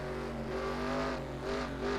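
Simulated NASCAR race car engine from NASCAR Racing 2003 at the Milwaukee Mile, throttle slammed on and off through a corner, the steady buzzing engine note rising and dipping in pulses, loud and close with no talk.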